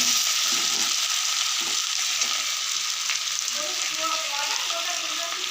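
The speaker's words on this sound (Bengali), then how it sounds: "আদা রসুনটা ভালোভাবে ভাজা হয়ে গেছে।" Ginger, garlic and tomatoes fry in a pan with a steady, bright sizzling hiss that holds at an even level throughout, with no talking.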